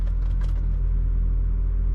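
A 2011 BMW 135i with N55 engine and catless downpipe idles just after start-up, giving a steady, deep, close exhaust rumble without talk.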